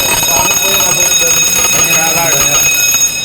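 Second alarm of a pre-action double-interlock fire suppression system during testing, a continuous loud electronic tone ringing steadily throughout, with people talking faintly beneath it.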